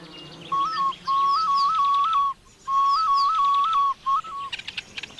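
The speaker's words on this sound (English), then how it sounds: "people can actually call up a Honeyguide by using a snail shell whistle" A clear, piping whistle blown on a snail shell sounds in short rising-and-falling trills, repeated in several phrases with brief pauses, with faint bird chirps in the background.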